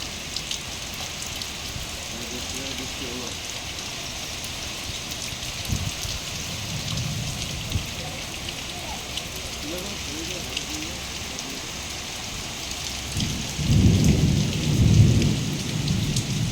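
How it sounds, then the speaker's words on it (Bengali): Heavy rain pours down steadily during a thunderstorm, a dense continuous roar of drops, while low thunder rumbles swell now and then and grow louder toward the end. A voice murmurs faintly underneath. "তারপরে এলো বৃষ্টি, সেই ঝমঝমিয়ে বৃষ্টি"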